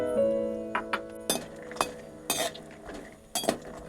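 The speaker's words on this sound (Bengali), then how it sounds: "এইভাবে আমি নেড়ে নেড়ে বাদামটা ভেজে নিব ভালো করে।" Raw peanuts frying in hot oil in a wok are stirred with a metal utensil, giving repeated sharp clinks and scrapes at an uneven rhythm over a steady low sizzle, close and alone without talk.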